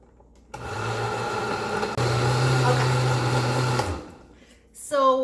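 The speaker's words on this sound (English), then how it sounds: "And turn my blender back on and let it finish up." A blender motor whirs steadily for a few seconds at close range, cutting out briefly and then running again before stopping, with faint clatter after.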